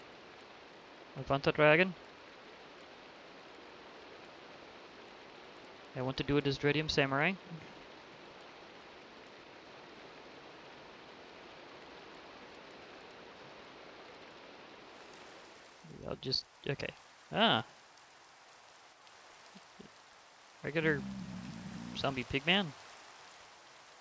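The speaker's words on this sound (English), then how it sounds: "So sorry about the rain." Steady, even hiss of rain falling in the video game Minecraft runs throughout, with someone talking over it in several short bursts.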